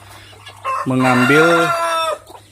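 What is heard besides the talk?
clucking of ayam ketawa hen with day-old chicks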